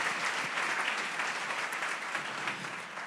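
A church congregation applauding, steady dense clapping from many hands that stays loud and even throughout.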